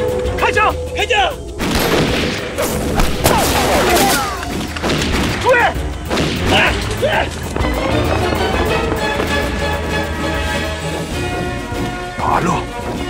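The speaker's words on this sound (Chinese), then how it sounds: "开枪！ 开枪！" Rifle shots in a battle between guerrillas and Japanese soldiers at a village, loud repeated bangs and booms in irregular bursts, mixed with shouting voices and a dramatic film score.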